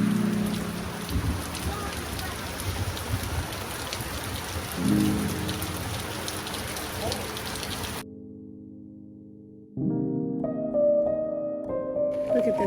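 Rain falls steadily at a lakeside cottage over a July holiday weekend, a dense patter of drops on surfaces, then gives way to quieter, different sounds in the last few seconds.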